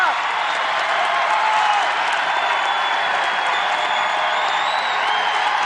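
A basketball arena crowd roars steadily at an NCAA women's game between South Dakota State and South Carolina, dense cheering and applause with high whoops, loud and sustained across the whole stretch.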